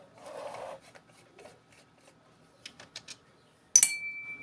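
A screwdriver works at a loudspeaker during disassembly: a brief rasping scrape, then scattered light taps and clicks, and finally a sharp metallic clink with a short ringing tail, all close and fairly quiet, with no talking.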